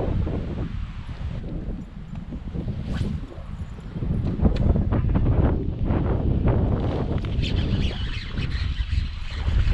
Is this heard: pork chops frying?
no